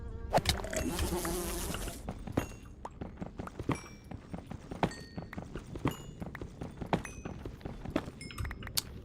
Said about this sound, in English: There's another one coming. I can hear it.